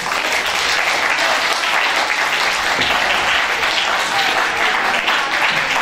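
Loud, steady crowd applause at a literary festival welcoming two young authors, sustained and dense throughout without pause.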